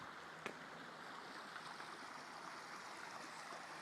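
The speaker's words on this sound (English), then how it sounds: "Cute gurgling brook." A small gurgling brook beside Pisgah Covered Bridge, a steady soft wash of running water outdoors, fairly faint and continuous with one brief knock near the start and no voices.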